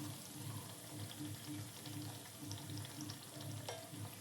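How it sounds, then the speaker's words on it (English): Layered sweet puri frying in hot oil over a low flame, a steady dense sizzle and bubbling that holds throughout with no voices. "Heat the oil and put the flame into low, then fry the layered puri."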